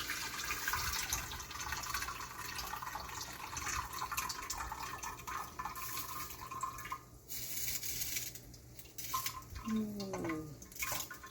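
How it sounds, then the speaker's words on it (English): Cooking juices from baked jerk chicken being drained into a pot, a continuous pouring splash with gurgles and a few clinks near the end. "I normally like to drain it off in the pot that I use to make the gravy."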